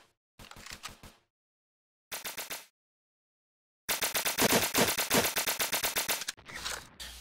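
Rapid automatic gunfire from a video game hex-shooting match, in short bursts followed by a long sustained volley of rattling shots, loud and close, with no voices.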